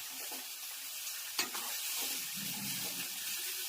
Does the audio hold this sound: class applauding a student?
no